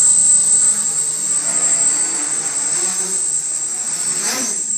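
A hexacopter drone on an Iconic-X frame with 1400 kV motors hovers at about one third throttle, giving a loud, steady high-pitched whine with a fainter rotor hum beneath it.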